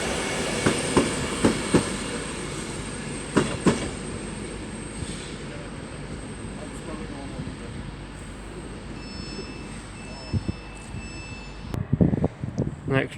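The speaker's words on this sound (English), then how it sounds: "Next up is an arrival off London Euston, terminating here at Crewe" A train arriving from London Euston rolls into Crewe station with rumbling wheels, rhythmic clicks over rail joints and a faint high squeal as it slows, heard from the platform.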